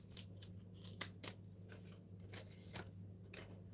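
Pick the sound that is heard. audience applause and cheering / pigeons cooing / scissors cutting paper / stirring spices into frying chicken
scissors cutting paper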